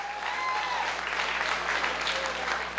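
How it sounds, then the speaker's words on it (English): Comic con panel audience for PSYCH at Colorado Springs gives sustained applause, an even, steady roar of clapping from a large crowd with faint whoops. "Give yourselves a huge round of applause for that"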